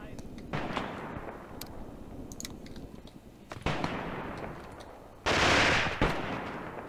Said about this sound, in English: they're being pretty suppressed by hand grenades and rifle fire